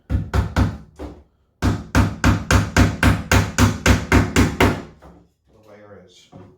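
Hammer blows drive three nails into a wooden beehive frame's wedging strip, a dozen sharp, evenly paced strikes in a steady run after two opening taps, loud and close, ending with a faint softer sound.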